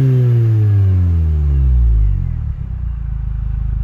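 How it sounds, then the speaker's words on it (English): A remapped, supercharged Mini Cooper S R52/R53 convertible engine revs up in one loud, rising sweep, then falls back and settles into a lumpy, rumbling idle, heard close with the door open. "Let's give it a quick rev."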